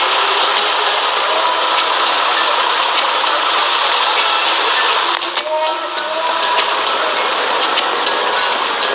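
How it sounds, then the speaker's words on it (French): Steady, heavy rain pours down close by, a dense continuous hiss with a faint engine hum underneath. "On a quitté le soleil pour trouver la pluie."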